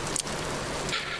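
Rain hissing steadily in the Vintage Story video game, a dense patter with brief brighter splashes near the start and end.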